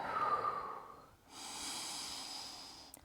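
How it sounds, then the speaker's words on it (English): A slow, deep breath during a yoga pose, a long inhale followed by a long airy exhale through the nose, close and soft. "let's breathe"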